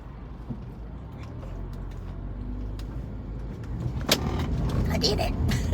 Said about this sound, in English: there's a bunch of cars coming